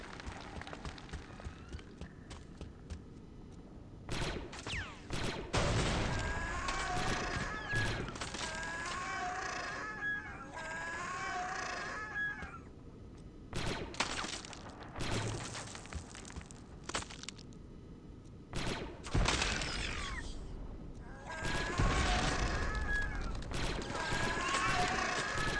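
Gunfire in the Star Wars Republic Commando shooter, with bursts of weapon fire and impacts coming in repeated clusters over a steady game-noise backdrop, with talk heard between the volleys.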